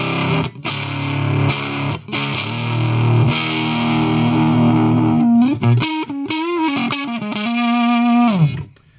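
Electric guitar played through an Electro Harmonix Hot Tubes overdrive pedal with its tone switch on, loud and saturated: sustained distorted chords give way to a run of single notes and bends, ending in a falling slide, with no talking.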